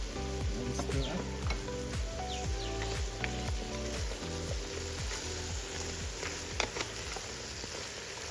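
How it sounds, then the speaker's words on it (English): Tripe, lamb and onions sizzling in a potjie, a cast-iron pot, with a loud continuous frying hiss and quick, regular scraping stirs knocking against the pot throughout. "now that we've got the tripe going and the lamb going and the onions sauteing"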